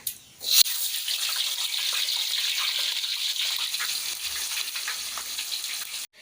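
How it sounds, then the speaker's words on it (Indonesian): Tofu frying in hot oil, a steady bright crackle and hiss starting abruptly after a brief thump, continuing evenly then cutting off. "Setelah minyak panas, kemudian kita masukkan tahunya."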